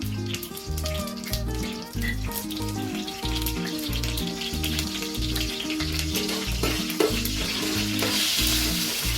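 Whole spices such as cinnamon, cloves, cardamom and bay leaf crackle in hot oil with fennel seeds during tempering, a continuous sizzle that grows slightly louder. Prominent rhythmic background music runs underneath, and no one talks.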